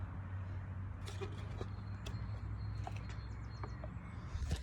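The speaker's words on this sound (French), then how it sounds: "Ça fait du bien les bruits d'oiseaux." Faint outdoor birds chirp in scattered short calls over a steady low hum and distant background noise, with no voices present.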